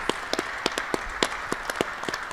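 Scattered applause from a small audience at an announcement launching a new key for veterans with chronic pain, sharp irregular claps over a low room hum, a few hands in the room.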